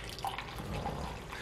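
Brewed pistachio-flavored coffee poured from a French press into a cup, a soft, faint, continuous liquid trickle heard close up.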